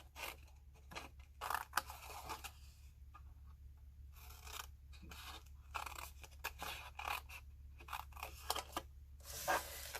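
Scissors trimming paper for a pop-up hen house card, a run of quick crisp snips and cuts in short bursts with brief pauses, close and quiet, no talking.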